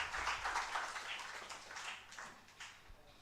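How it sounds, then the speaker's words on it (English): An audience at an international English department conference claps for the vice principal, a crowd of hands starting strong, then thinning and gradually fading toward the end. "Another clap for Madam Vice Principal."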